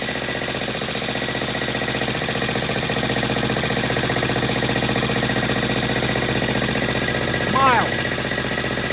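A vintage British motorcycle engine runs as it warms up, giving a fast, even, close mechanical chatter throughout, with a short rising sound near the end.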